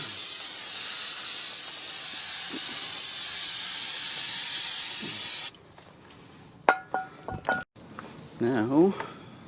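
Brake cleaner sprayed onto the front brake parts of a 2012 Dodge Caravan during a pad and rotor job gives a loud, steady hiss for about five seconds, then cuts off, followed by a few clicks and brief voices.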